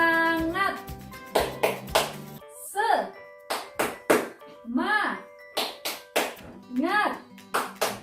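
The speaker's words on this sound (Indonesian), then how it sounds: "yuk kita tepuk semangat dulu" A primary school class claps along to a rhythmic clap chant led by a teacher, sharp group claps in repeated patterns interleaved with sung or chanted voices and bell-like tones.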